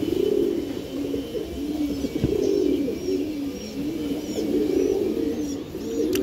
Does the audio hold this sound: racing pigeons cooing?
yes